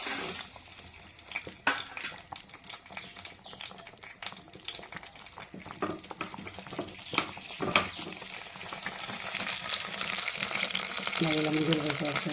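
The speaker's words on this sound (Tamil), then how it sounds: "இப்போ இதில் நம்ம முந்திரி பருப்பு மட்டும் வறுத்து போடணும்." Cashews fry in ghee for payasam with a crackling, bubbling sizzle that grows louder toward the end, close and continuous, with scattered stirring clicks.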